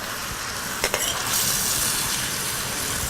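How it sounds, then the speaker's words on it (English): Cooked sausage mixture is scraped from a pan into a bowl, a brief metallic scrape and clink of a utensil followed by a steady sizzling hiss, close and alone. "I'm going to transfer our sausage mixture just into a bowl"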